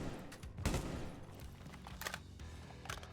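Gunfire in the tactical shooter Rainbow Six Siege: a few quick, sharp shots break out in short bursts, the loudest early and more trailing later, over steady in-game background noise.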